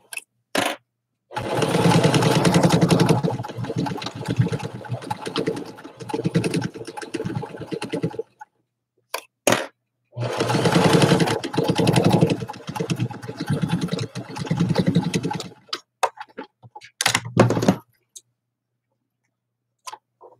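A home sewing machine with a bobbin running low runs in two long bursts of steady, close mechanical stitching, separated by short pauses and clicks, with a few quick starts near the end.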